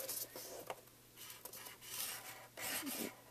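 A scoring tool drags across paper in short, quiet rasping strokes, several close scrapes and rubs separated by brief pauses.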